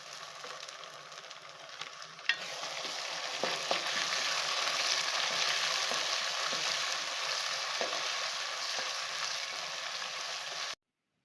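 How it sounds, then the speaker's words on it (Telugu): Two tablespoons of ginger garlic paste frying with onions in a pan for gongura chicken curry, a loud steady sizzle with occasional stirring clinks, close and continuous until it cuts off. "ఇప్పుడు రెండు టేబుల్ స్పూన్లు అల్లం వెల్లుల్లి పేస్ట్ వేసి పచ్చివాసన పోయే వరకు వేయించుకోండి"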